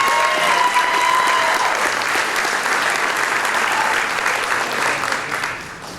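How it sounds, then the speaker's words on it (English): Loud, dense audience applause for a 7th grader from Independence Junior High School in Palos Hills, a sustained wash of many hands clapping that holds steady and then tapers off slightly at the end. "Let's give them a big round of applause."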